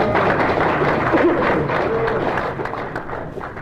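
An audience applauds in a room, a dense, fairly loud wash of clapping that holds steady and then tapers slightly toward the end.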